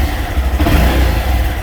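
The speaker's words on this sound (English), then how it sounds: "Listen to that 124cc single cylinder 4-stroke fuel injected engine" A Honda Monkey's 124cc single-cylinder four-stroke fuel-injected engine revs up close, a loud, steady mid-pitched drone that rises slightly then holds for under two seconds, with no talking.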